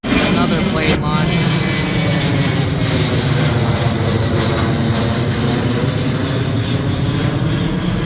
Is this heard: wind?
no